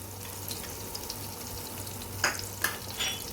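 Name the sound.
flour being roasted in melted butter in a frying pan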